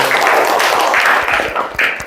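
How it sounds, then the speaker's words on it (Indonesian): Students in a teacher-training classroom lesson applaud a presenting group with a lively burst of clapping, and a few brief voices or cheers rise over it before the sound thins out near the end. "Ya, kasih tepuk tangan untuk kelompok 1."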